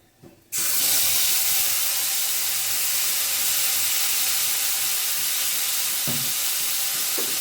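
A spice paste of green chili, tomato and garam masala hits hot oil and bursts into loud, steady sizzling that continues evenly, with a faint stir or clink near the end.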